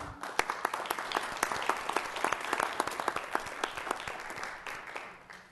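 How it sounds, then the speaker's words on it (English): Sustained applause for city Public Works employees at a regular city council meeting, many hands clapping steadily for several seconds before easing off, fairly distant in the room. "Give them a big round of applause, please."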